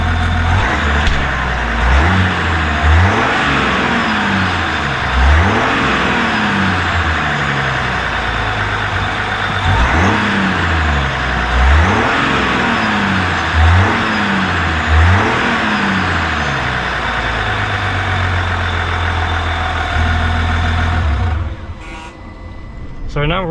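A Duramax LM2 3.0L diesel pickup truck engine with a PPE turbo resonator delete revs repeatedly in rising bursts, then drops back to a rough, steady idle between each rev; loud and close.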